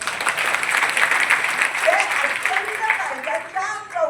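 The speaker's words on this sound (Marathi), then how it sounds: "टाळ्या वाजवा सगळे" Audience in a Solapur auditorium breaks into sustained, dense clapping at a foundation's award ceremony, a steady wash of applause with a voice starting to speak over it near the end.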